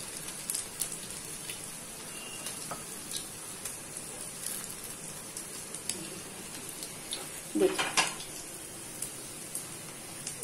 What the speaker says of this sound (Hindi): देखिए कोफ्ते फ्राई हो रहे, ऐसा टर्न करते हुए फ्राई करिए